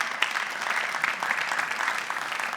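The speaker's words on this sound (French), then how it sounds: "On vous applaudit et vous pouvez monter sur scène" Audience applause at a business forum as people are invited onto the stage, a steady dense clapping from a crowd filling the short stretch.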